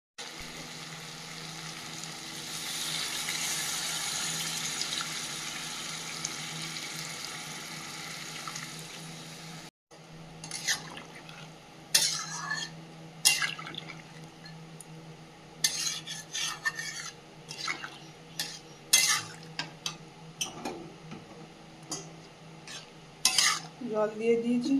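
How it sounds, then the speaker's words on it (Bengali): Meat curry in a pan gives a steady, close sizzle. After water is added the frying dies down, followed by irregular stirring scrapes and sharp utensil clinks against the pot, with no talking. "এই পর্যায়ে জল দিয়ে দেব।"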